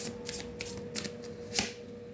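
Cards being shuffled in a few quick riffling bursts, close and fairly quiet, with a faint steady hum underneath.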